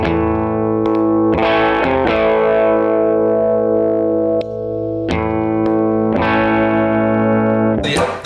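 An electric guitar runs through a Voyager overdrive pedal, playing ringing overdriven chords that are struck every second or so and sustain in between, loud and close with no speech.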